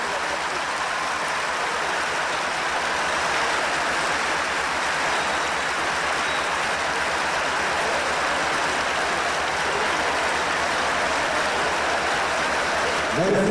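A standing audience at a patriotic ceremony applauds continuously, a dense, steady wash of many hands clapping at an even level throughout, with no breaks.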